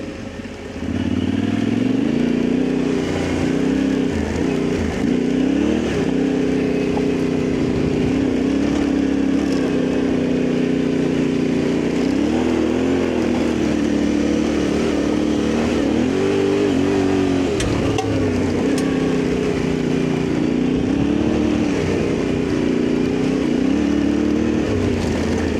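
A Yamaha Tenere motorcycle rides a Trans European Trail route in the UK on Atlas Caprex Rally tyres at 24 psi, its engine droning loud and close with rising and falling revs and occasional clatter throughout.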